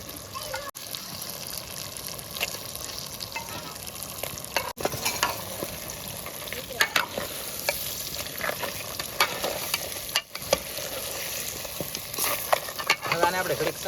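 Shrimp curry fries in a pan on a beach outing, with a steady sizzle and repeated scraping stirs throughout; faint voices can be heard in the background.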